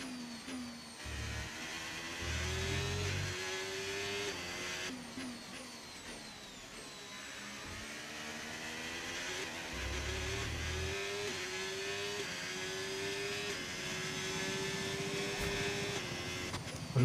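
The Ferrari Formula 1 car's engine in F1 25 screams through gear changes, pitch climbing and dropping with each shift, steady and close under the race ambience.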